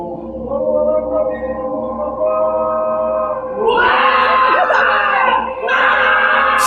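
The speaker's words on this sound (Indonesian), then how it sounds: "Lagian ngapain sih sholat tarawih sampai teriak-teriak?" Loud, sustained screaming and wailing from a group of people during tarawih prayers in a mosque, with voices rising even higher midway and continuing without a break.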